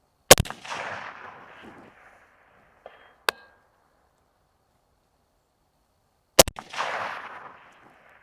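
Two sharp rifle shots crack at a silhouette target through an LPVO scope, several seconds apart. Each one is loud and close and trails into a decaying echo. Faint clicks fall in between, with no voices.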